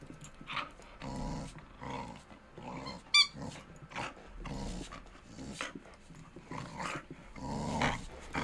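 A dog growls, pants and snarls as it plays with a rage ball toy. The sounds come close and continuous, with a brief sharp squeak partway through.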